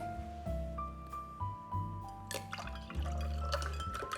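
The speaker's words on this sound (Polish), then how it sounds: "pozostaje nam tylko nalać go do kieliszków" Strawberry-mint kruszon punch is poured into glasses, a steady liquid trickle and drip with faint glassy ringing tones and ice, close and continuous without talk.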